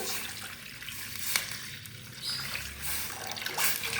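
Water poured into a cooking pan while sautéing aromatics for a bamboo shoot dish, a steady splashing trickle with light sizzle throughout, close and moderately loud.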